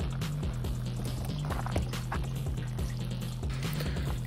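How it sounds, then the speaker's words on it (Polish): Water trickling and dribbling steadily out of a plastic bottle punctured by an air pistol pellet, a continuous gentle gurgle with small drips throughout. "Patrzcie, jak woda ucieka."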